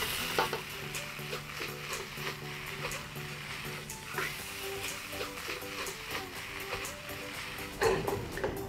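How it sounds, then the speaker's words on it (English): Fried rice with stir fry sauce and fresh basil being stir-fried in a hot pan, a steady sizzle under repeated scraping and tossing strokes, close and continuous, with a sharper clatter near the end. "And now add in your stir fry sauce and give everything a good mix."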